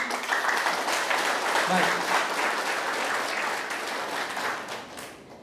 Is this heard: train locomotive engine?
no